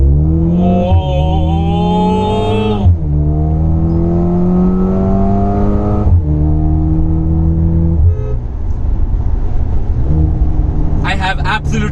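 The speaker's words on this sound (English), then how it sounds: "I have absolutely no words to explain how the power kicks in the minute you throttle." A 2021 Mercedes GLA 35 AMG in Sports Plus mode accelerating hard from a brake-held launch, loud engine revs rising through several upshifts with brief dips between gears, heard from inside the cabin under an excited voice.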